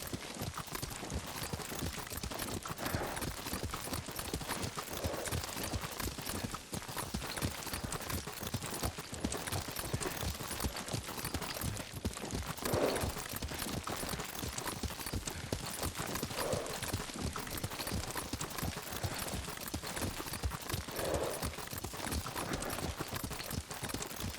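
Rapid, steady clip-clop of hooves from a galloping horse in Ghost of Tsushima, continuous and close, with a dense wash of game ambience underneath.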